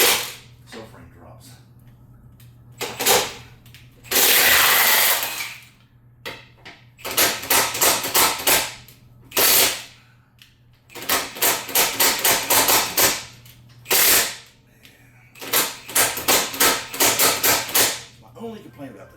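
An air impact gun hammers at car subframe brackets under a vehicle on a lift, firing in loud bursts of rapid rattling blows separated by short pauses, with a low compressor hum running underneath.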